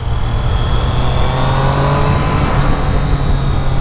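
A Triumph motorcycle on its original exhaust holds a steady, loud engine note with a low droning hum and a slight rise in pitch, close and continuous with no talking.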